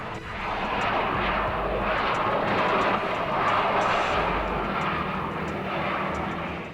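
A Beechcraft King Air C-90 twin turboprop circling overhead with a nose-gear fault, giving a loud, continuous engine drone that swells and fades slightly as it passes, with no voices.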